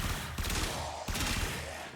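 Bursts of Supra Vandal gunfire against enemies on a regular star chart mission in Warframe, two dense sustained volleys of rapid shots, loud and close, with no talk.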